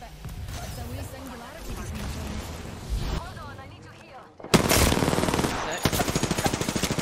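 Rapid automatic gunfire in an Apex Legends fight, starting quietly under voices and then erupting into loud, close bursts with a sharp report and a steady rattling stream of shots.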